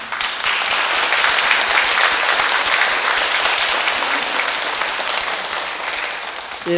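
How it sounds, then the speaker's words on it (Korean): A church congregation at a Catholic brotherhood's monthly Mass bursts into dense, steady applause honouring members' feast days. The close, loud clapping holds for several seconds and eases slightly near the end. "모두 한꺼번에 축하의 박수 부탁드리겠습니다"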